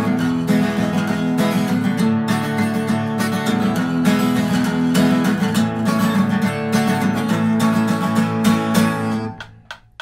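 Guitar strumming the chorus of a song at full speed, dense and loud rhythmic chords held steadily throughout before fading out near the end.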